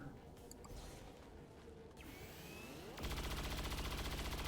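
Automatic weapon fire in the XCOM 2 War of the Chosen video game, a faint rapid burst of shots with a sweeping effect, then a steady loud rattling stream of fire in the last seconds.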